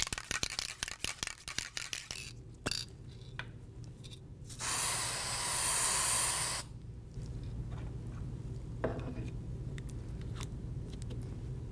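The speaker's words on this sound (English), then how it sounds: "I shake the graphite spray and then I apply a few layers on each side." Graphite spray applied in a few layers to heated laser-flash samples, preceded by a can being shaken with rapid rattling, then a steady loud hiss for about two seconds, followed by quieter handling sounds.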